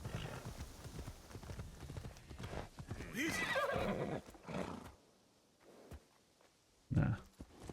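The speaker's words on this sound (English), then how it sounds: "Forget Yasuke's horse has all the armor on it" An armored horse in Assassin's Creed Shadows clip-clops steadily, then a loud whinny rings out, followed by quieter steps and a final snort or short neigh.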